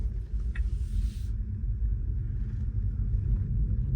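Low, steady road rumble from inside a Tesla Model 3 rolling along at night, a constant deep drone of tyres and motion with a faint high whine early on, no talking.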